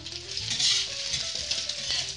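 Egg with scallions stir-frying in a pan for soy sauce fried rice, giving a steady bright sizzle with faint scraping and stirring clatter throughout, close and continuous with no talk.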